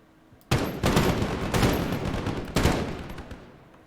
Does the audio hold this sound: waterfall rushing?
no